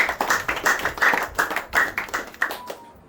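An audience claps to thank two families at a religious gathering, a moderately close burst of many hands in uneven rhythm that fades out near the end.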